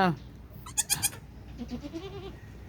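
A newborn goat kid, just delivered, gives a few thin, wavering bleats close by, with a person speaking softly in between and over the calls.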